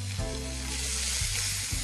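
Grated onion sizzling in olive oil over low heat for a vegetarian barbecue dish, a steady close crackling hiss that runs on without a break and with no voices.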